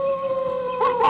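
A dog howls in a long, loud, sustained wavering tone close by, rising into a rougher yelp near the end, with no talking.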